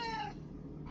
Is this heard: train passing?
no